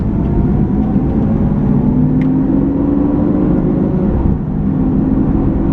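Lamborghini Aventador engine holding a steady, loud drone as its automatic gearbox shifts down through the gears, the pitch easing lower near the end with a faint brief whine along the way; no talking.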